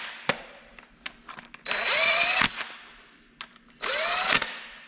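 A power tool drives and tightens bolts on a 5.3 V8 engine from a Suburban being assembled, torqued to 18: two close, loud whirring bursts with short rattling clicks between them.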